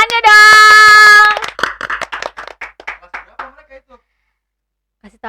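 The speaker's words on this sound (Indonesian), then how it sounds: "Boleh tepuk tangannya dong." A small group claps hands in a quick burst that trails off into scattered claps, following a loud sustained tone at the start.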